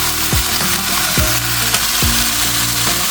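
Ground beef sizzles in a pan with wilted onions and mushrooms, a loud, steady crackling fry up close, with stirring clatters and scrapes recurring every half second or so.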